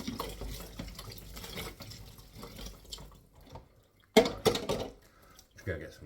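Hot water runs from a tap over a VW fog light grille, a low intermittent trickle under a speaking voice, then a sudden louder splash of water near the end.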